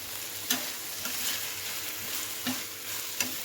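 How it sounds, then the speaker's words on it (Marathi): Tomato chutney with chopped coriander sautéing in a pan: a steady soft sizzle with a few sharp spoon scrapes and clinks against the pan, close up, with no talking. "दोनच मिनटं परतून घेऊया"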